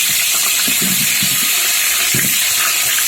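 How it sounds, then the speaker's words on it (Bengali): Mango pieces hit hot mustard oil after the tempering spices have fried, giving a loud, steady, hissing sizzle that fills the whole stretch, with faint clatter underneath. "এবার আমি আমগুলো তেলের মধ্যে দিয়ে দেবো।"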